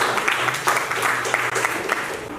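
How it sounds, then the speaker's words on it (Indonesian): Applause for a student group in a classroom, a steady wash of clapping from the class lasting the whole short moment with no voice over it. "tepuk tangan untuk kelompok 3"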